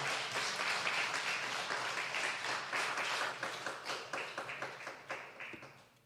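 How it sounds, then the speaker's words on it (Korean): A church congregation applauding steadily, dense clapping that thins out into scattered individual claps before fading. "나오실 때까지 박수로 좀 환영해 주십시오."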